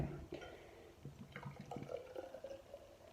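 Faxe Royal Export beer glugs and splashes from a can into a glass in uneven, sputtering bursts, with a foamy fizz building underneath, close and fairly quiet.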